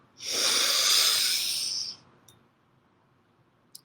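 A single slow, deep inhalation during guided meditation, drawn close and clearly for nearly two seconds, then quiet with a couple of faint clicks.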